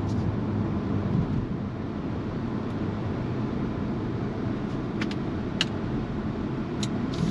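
A 2023 SsangYong Korando mid-size family SUV cruising on the road, a steady low engine and tyre hum filling the cabin with faint clicks and ticks over it, and no talk.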